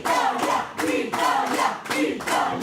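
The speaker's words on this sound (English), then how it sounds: "I can hear Italia ringing out in the crowd" A crowd at a European Touch Cup touch rugby match in 2025 chants for Italy in loud, rhythmic bursts, with steady clapping pulsing under the chant at close range.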